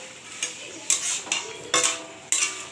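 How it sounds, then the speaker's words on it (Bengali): Pointed gourd (potol) going into a boiling pan while cooking a shrimp dish, with a series of about five sharp clattering scrapes and stirring knocks, each followed by a short hiss, close and distinct. "ফুটে গেছে, এর সঙ্গে আমি পটলটা তুলে দিচ্ছি।"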